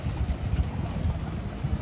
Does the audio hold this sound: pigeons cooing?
yes